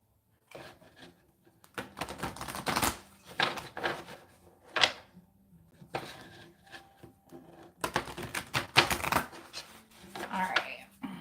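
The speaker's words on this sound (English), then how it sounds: "let's pull some meditation cards here that I am shuffling." A deck of meditation cards being shuffled by hand, with irregular bursts of papery riffling and flicking separated by short pauses, close and fairly loud, with a few faint low sounds between the bursts.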